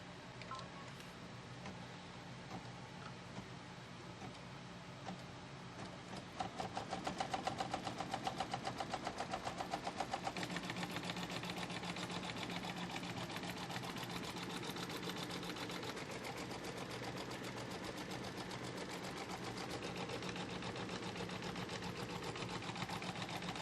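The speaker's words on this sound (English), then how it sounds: "as soon as it's done tacking this one down and moves to the next block, I'm going to stop the machine" An embroidery machine stitching down a Kimberbell Pumpkins & Potions quilt block, running as a fast steady mechanical whir of rapid needle strokes that grows louder partway through and continues evenly, with no talking.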